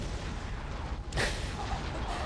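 A grenade bursts in Conker: Live & Reloaded, a single sudden boom cutting through the noisy battle ambience.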